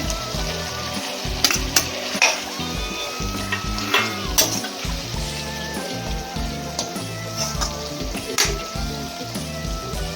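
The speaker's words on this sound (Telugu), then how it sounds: "సగం మగ్గిన తర్వాత టమాటాలు వేయాలి" Chopped tomatoes frying in a pan for ridge gourd curry give a loud, steady sizzle. Repeated scraping stir strokes cut through it, and no voices are heard.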